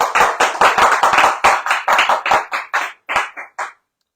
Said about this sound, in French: Alors là, on peut vraiment applaudir très fort.